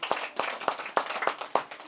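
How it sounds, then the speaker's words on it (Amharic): Children at a birthday program clap for themselves in a quick, slightly uneven burst of about six sharp claps, close and fairly loud. "እስቲ ለራሳችሁ አጨብጭቡ።"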